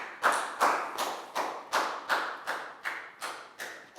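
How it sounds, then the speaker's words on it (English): In a Year 4 maths lesson, about ten evenly spaced, crisp claps ring out at a steady beat, each with a short room echo, close by and without talk. "High five and a big round of applause for Pak Bung"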